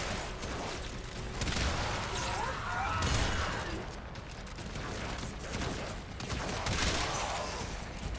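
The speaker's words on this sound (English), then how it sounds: "meet my double-barreled shotgun" Double-barreled shotgun fire in the video game Warframe, shots and blasts recurring across a dense, loud battle mix with game effects and no clear separation between shots.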